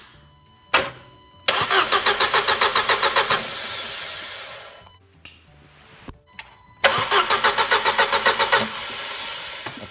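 Audi A4 / VW Passat engine cranking without starting during a compression test, two long bursts of rapid rhythmic starter churning with even pulses, close and loud, separated by a short pause and clicks.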